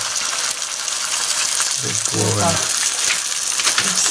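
Food for breakfast fries in a pan with a steady hiss and sizzle, loud and close, while a voice briefly speaks over it partway through.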